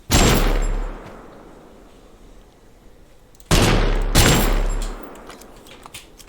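Assault rifle fire in the video game TABG: two loud bursts of gunfire, one short and sharp at the start and another longer burst past the midpoint, each trailing off into a decaying echo, with no voices.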